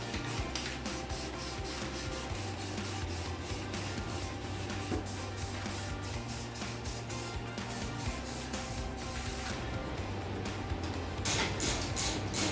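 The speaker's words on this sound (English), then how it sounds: "Now we gotta paint." A new gas tank for a Ford F100 pickup is spray painted, with a continuous close hiss from the spray can broken into many short pulses, steady and fairly loud throughout.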